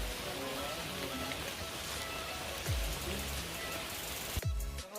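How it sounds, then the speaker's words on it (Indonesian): Steady rain falling on a mountain trail in Pangrango, a dense continuous hiss of drops close around, with a couple of brief low thumps near the end and no talk. "Sampai sekarang hujan belum reda juga."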